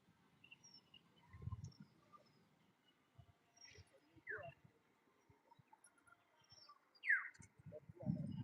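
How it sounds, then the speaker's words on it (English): An oriole sings in nature, sparse clear whistled notes and short calls coming at intervals from a moderate distance, with faint low rustling and scattered noises between them in a quiet outdoor setting. "This is Oriole."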